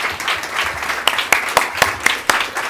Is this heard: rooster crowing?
no